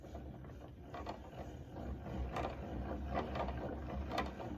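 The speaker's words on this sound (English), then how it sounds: "It's a yarn ball winder and umbrella swift winder." A hand-cranked LAMXD yarn ball winder with an umbrella swift turns quietly, giving a soft continuous whir with faint gear clicks and light ratcheting ticks throughout.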